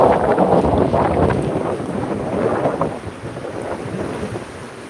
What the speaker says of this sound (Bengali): হঠাৎ করে বৃষ্টি